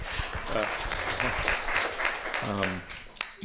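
A short burst of audience clapping at a CIRI shareholder meeting in Anchorage, Alaska, with a voice speaking over the light, scattered applause.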